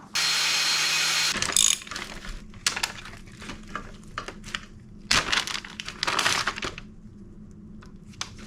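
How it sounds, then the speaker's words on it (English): Chain tool breaking links on a motorcycle chain during a 2007 Honda CBR600RR refresh, heard as a sustained grinding burst followed by a series of sharp metallic clicks and ratcheting cracks, close and loud. "So we're gonna chop the links right there and then get our master link in there."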